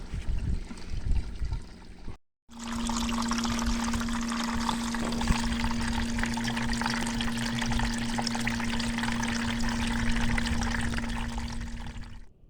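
Water recirculating through a self-feeding gold sluice on a rooftop, a continuous loud rushing stream with a steady pump hum, broken only by a brief cut near the start, with no talk.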